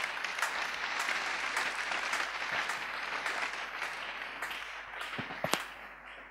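A church congregation applauds during a worship service, a dense, steady wash of clapping held at an even level, with a few sharper, louder claps standing out near the end.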